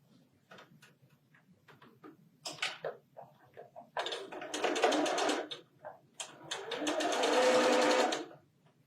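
A sewing machine sews quilt block seams for a four patch star pattern, starting with scattered clicks and short taps, then building into two longer, loud, close bursts of stitching.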